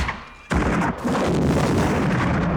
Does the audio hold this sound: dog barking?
no